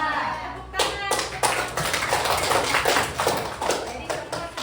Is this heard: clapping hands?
yes